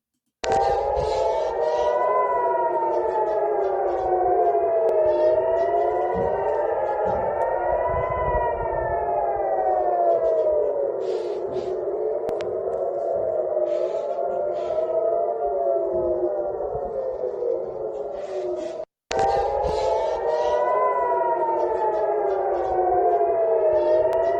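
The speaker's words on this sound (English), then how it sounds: "we now have air raid sirens going off in Israel almost on a daily basis" Air raid sirens in Israel wail continuously, rising and falling in long overlapping sweeps, loud and sustained, with a brief break near the end before resuming.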